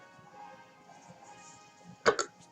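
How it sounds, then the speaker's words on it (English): Two quick hiccups close together, sharp and fairly near, rising from a quiet room with a soft background hum during a game session. "Hiccups."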